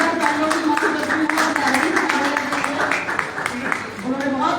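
An audience at a Hindi literary book-launch gathering claps loudly and continuously at close range, with voices mingling through the dense applause.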